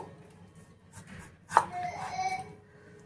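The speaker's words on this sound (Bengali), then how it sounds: "এবারে আলুটা মাঝ বরাবর কেটে নেব।" A knife cuts a peeled potato in half: one close, crisp chop followed by a brief scraping slice, set against a quiet kitchen.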